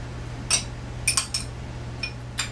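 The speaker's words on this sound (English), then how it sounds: "Get a spoon out here for the horseradish as well as the garlic" Metal spoon clinking against dishes while being pulled out in a home kitchen, several sharp bright taps in a loose irregular cluster over a faint steady hum, with no talk.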